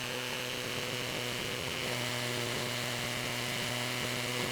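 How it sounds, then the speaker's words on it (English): A power drill on hammer setting bores into a concrete wall, giving a loud, steady buzzing whine with a rapid pulsing rattle throughout and no talking. "because this is a concrete wall, you should set your drill to a hammer function"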